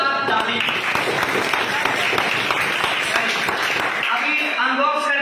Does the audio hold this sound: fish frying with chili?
no